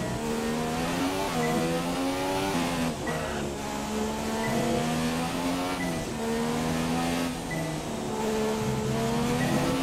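A Formula 1 car in F1 2017 drives a practice session at the Hungarian Grand Prix with a loud, continuous engine whine. The engine rises and falls steadily as the car shifts through gears and corners, and the tone stays close throughout.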